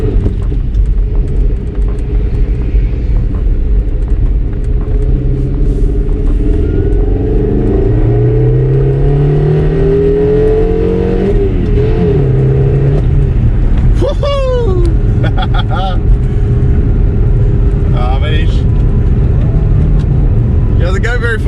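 A 1992 Subaru Ace classic car drives along, its small engine droning loudly up close with a rising whine as it revs through gears, under people talking inside the cabin.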